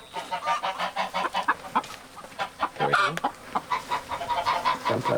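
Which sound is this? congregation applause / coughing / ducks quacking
ducks quacking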